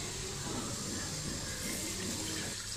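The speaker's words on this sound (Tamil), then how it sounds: "துவரம் பருப்பை கழுவி பத்து நிமிஷம் ஊற வச்சிடலாம்" Water runs steadily as toor dal is washed, a continuous close splashing rush from a tap into a vessel, with no pauses and no voices.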